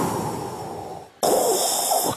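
A voice imitates Darth Vader's breathing as a stand-up comedy bit, two long close-miked hissing breaths in succession, the second harsher and brighter.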